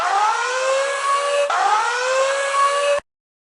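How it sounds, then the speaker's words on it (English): A shrill electronic alarm siren from the audio game Audio Roids wails in two rising sweeps, loud and steady, then cuts off abruptly into silence. "It's hard to focus on the directional signals while the shrill siren drills into my ears."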